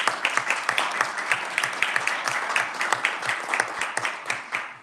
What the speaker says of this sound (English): I got drowned out by applause for you there.